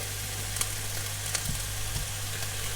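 Tomatoes and spring onions fry in a tagine, a steady close sizzle with a few light clicks and stirring taps and no talk.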